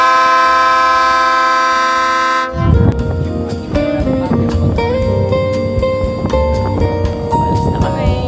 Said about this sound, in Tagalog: Here goes the horn.